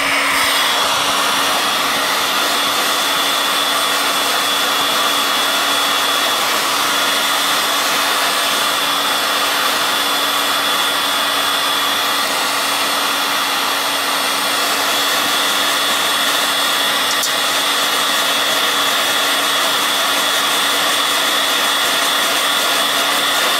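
Heat gun blowing a steady, loud hot-air roar over a mobile phone circuit board outdoors to expose its chips, a continuous whoosh with a fixed whine running unbroken throughout.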